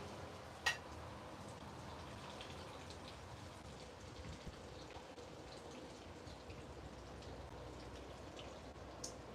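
Heavy rain pours steadily beside a greenhouse, a dense even hiss of drops with a few sharper taps and drips, continuous and fairly quiet with no talking.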